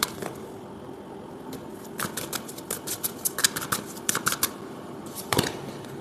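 Tarot cards are shuffled and drawn at a Bengali reading table: a run of crisp, close flicks and slaps of cardstock, clustered in quick bursts with short pauses, ending in one sharper snap, with no voices.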